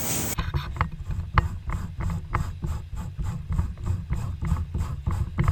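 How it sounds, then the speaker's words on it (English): A wire brush scrapes crumbling foam off a car headliner in repeated rhythmic strokes, each one a dry raspy scratch, close and alone with no talking. "I'm going to use a wire brush, and I'm just going to scrape the foam off the headliner"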